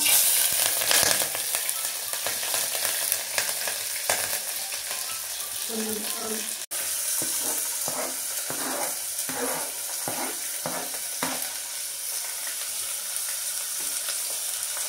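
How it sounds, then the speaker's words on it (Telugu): Chillies dropped into hot oil already holding mustard seeds and cumin, crackling and sizzling up close, with scraping stirs in the latter half; a voice speaks briefly near the start. "ఇందులో మిరపకాయలు వేసేసుకోవాలి"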